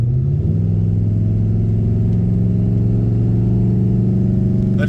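A 1972 Pontiac LeMans drag car engine revs loud and close, holding a steady, strong rumble with a rising pitch near the start and no talk.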